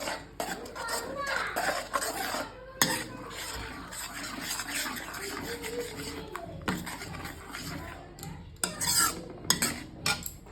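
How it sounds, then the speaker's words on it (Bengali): Potatoes being sautéed with Kashmiri chili powder in a pan for aloo dum: a spoon scrapes and stirs steadily, with clinks of metal on the pan and a brief cough, all close and moderately loud. "আমি একটু ভালো করে কষিয়ে নেব"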